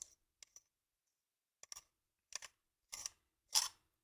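A lightsaber hilt's metal pommel is unscrewed, giving a series of faint, sharp scraping clicks spaced apart in a quiet room, the last one a little louder as it pops free.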